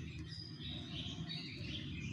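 Birds in an aviary housing about 25 pairs of various species and sizes, including endemic ones, chirp softly and continuously in the distance over a low steady background hum.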